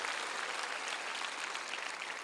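Faint, distant applause rises from a crowd at an outdoor peace and reunification prayer rally at the War Memorial plaza in Yongsan, Seoul, as a steady, even wash of clapping.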